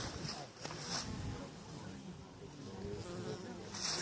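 Honey bees fly around beehives at an apiary, a steady soft buzzing close by with a few louder passes as single bees fly near, and someone speaks quietly over it.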